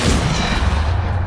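Depulso spell cast in the video game Hogwarts Legacy, a dense, loud burst of booming impact noise that fills the whole short moment with steady low rumble.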